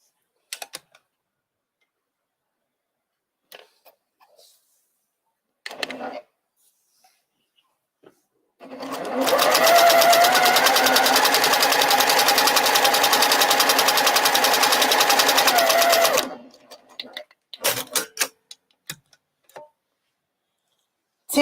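A sewing machine stitches plum quilt fabric in one long fast continuous run of about seven seconds, a dense mechanical whir, with scattered clicks and handling noises before and after.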